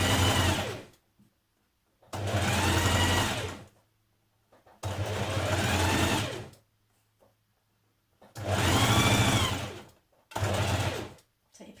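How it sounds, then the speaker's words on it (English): A sewing machine stitches fabric onto the body of a t-shirt in four loud, close bursts of rapid whirring, separated by short quiet pauses. "you're going to just sew that to the body of your t-shirt."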